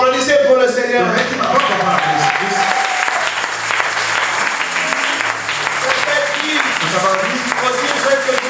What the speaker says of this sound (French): Vous applaudissez pour le Seigneur.